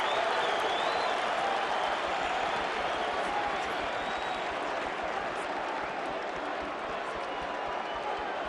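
A boxing arena crowd at the Roy Jones Jr. versus Felix Trinidad light heavyweight fight applauds the veterans, a steady, dense roar of clapping and crowd noise that holds at an even level throughout.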